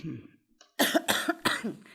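A few sharp coughs in quick succession, close and fairly loud, after a brief quiet moment.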